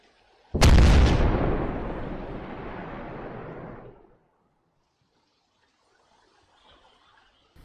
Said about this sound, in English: explosion at the back of the sniper building